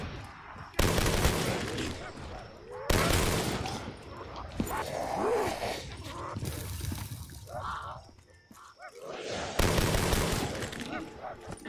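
Gunfire in Black Ops 3 custom zombies on the Town Reimagined map, with loud bursts of shots cutting in several times among game noise, with talking in between.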